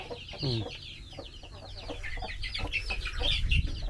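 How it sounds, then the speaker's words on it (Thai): Native village chickens cluck in a repeated, fairly close run of short calls, with continuous outdoor farm ambience underneath and no talk over them. "นี่ไก่บ้านธรรมดาครับพี่น้อง"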